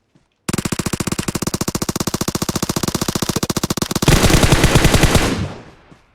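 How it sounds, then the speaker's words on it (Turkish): Rapid automatic Uzi gunfire in PUBG Mobile rattles off in a long, loud, evenly spaced burst of several dozen shots, then blurs into a denser roar before fading out, with no speech. "Uzi ile vuruyor görmüyoruz bir de"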